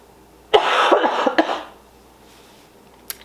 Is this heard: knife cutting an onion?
no